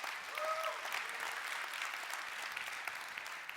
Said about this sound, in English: Better than the first clap we got.